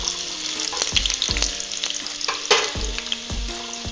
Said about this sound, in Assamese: মিঠাতেলখিনিত মই এতিয়া পনীৰখিনি ভাজি লম